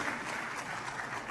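A church congregation applauds in a brief, fairly quiet burst of steady clapping.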